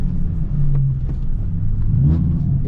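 Drift car engine revving loudly and close, a steady low rumble with rises and falls in pitch around the two-second mark, no talk over it.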